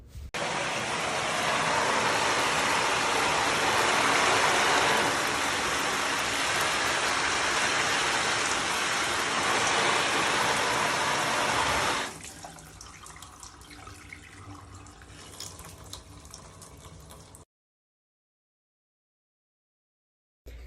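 Water pours steadily from a spout for several seconds, then stops, leaving faint dripping and light rustling before silence.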